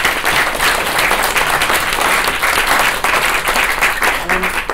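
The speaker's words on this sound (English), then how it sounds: "give you another round of applause" Audience applause for the speakers at the close of an urban ecology conference session, a dense, steady wash of clapping across the whole stretch with a faint voice near the end.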